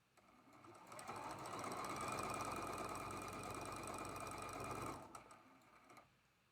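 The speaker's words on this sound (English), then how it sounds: "we're going to be sewing in this seam with a 1/4 inch seam allowance" A sewing machine runs a steady quarter-inch seam joining traditional quilt blocks, its fast continuous whir holding for about five seconds before stopping, leaving brief faint handling noise.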